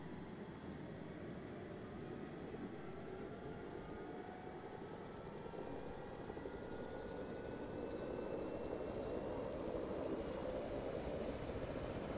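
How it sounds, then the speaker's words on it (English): Attack helicopters in a military video game, a steady loud rotor and engine drone that holds throughout and swells slightly toward the end, with no talking. "Looks like some more attack helicopters magically appeared after we destroyed those bear bombers."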